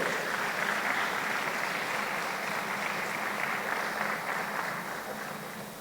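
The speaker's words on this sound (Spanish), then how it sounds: "Dale un fuerte aplauso a Cristo" A church congregation applauds during a sermon, a broad, steady roar of many clapping hands that holds evenly, then thins slightly near the end.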